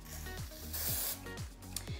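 Batiste dry shampoo sprays from an aerosol can in a short burst of close, airy hiss, with softer tapping and handling noise around it.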